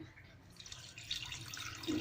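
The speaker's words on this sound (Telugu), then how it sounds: "వాటర్ చూసుకుంటూ యాడ్ చేసుకోవాలండి" A brief splash of water trickling into ridge gourd chutney, rising toward the end, with no talking.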